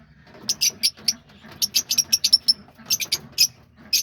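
Lovebirds chirp in quick, shrill bursts, several overlapping tweets in irregular clusters, close by with short pauses between.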